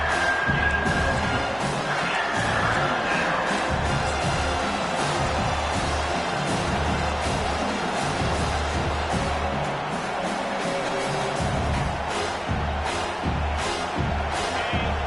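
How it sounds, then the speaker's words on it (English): A home crowd at a football game roars in a constant wash of cheering and shouting from a large stadium, loud and sustained throughout with no clear talk over it. "Here comes this home crowd as the defense tries to get off the field on 3rd down."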